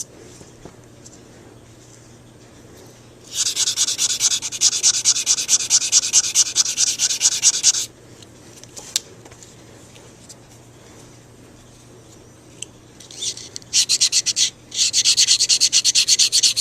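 Hand sanding with sandpaper: close, loud bursts of rapid back-and-forth scratching, a long stretch of strokes, a pause, then two shorter sanding runs.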